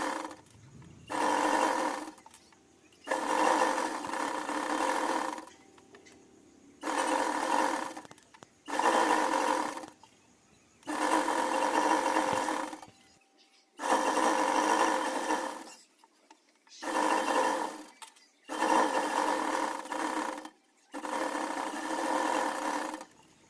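A sewing machine stitches a folded hem under the presser foot in repeated bursts of steady whirring, each a few seconds long, separated by short quiet pauses, close and clear with no talk.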